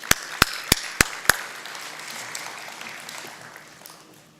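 Conference audience claps for a speaker at an energy event: five sharp, evenly spaced claps, then scattered quieter clapping that fades out.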